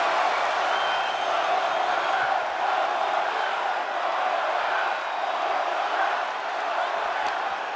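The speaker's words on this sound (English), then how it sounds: "With every move you make, you hear this capacity crowd following you on that journey." A capacity arena crowd in the WWE 2K23 wrestling game cheers as a steady, dense roar, loud and unbroken, with no distinct voices standing out.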